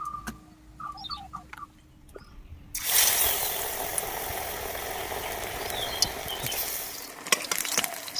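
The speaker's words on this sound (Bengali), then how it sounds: "এবার আমি বড়াটা ভেজে নেব।" Ridge gourd fritters in a spiced flour batter with nigella seeds and green chilli drop into hot oil and burst into loud, steady close sizzling that continues unbroken to the end, after a quieter opening.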